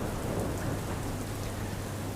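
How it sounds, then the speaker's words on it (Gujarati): Heavy rain pours down steadily across Palanpur in Banaskantha, a dense, even hiss of drops on surfaces with low thunder rumbling underneath, continuous and without any voices. "પાલનપુર સહિત બનાસકાંઠા જિલ્લામાં વરસાદી માહોલ જામ્યો છે"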